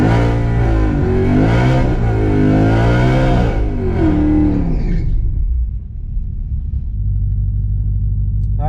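A supercharged Ford Mustang GT500 at a dragstrip revs hard several times with rising and falling engine whine, loud and close, then drops back to a low, rumbling idle.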